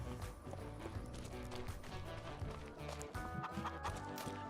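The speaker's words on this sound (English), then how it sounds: "And then you can probably hear the chickens." Chickens clucking on a farm in Farming Simulator 25, mixed with clopping footsteps and busy farmyard ambience, fairly faint and continuous.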